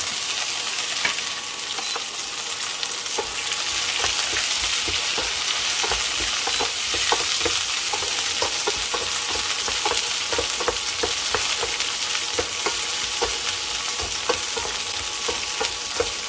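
Garlic and shallots fry in oil with a loud, continuous sizzle, broken by frequent small crackles and stirring scrapes, close up with no talking.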